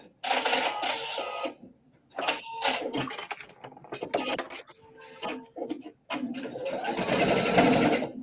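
A sewing machine stitching ribbon onto a fabric pouch, running in several loud, close bursts of rapid mechanical whirring separated by short pauses.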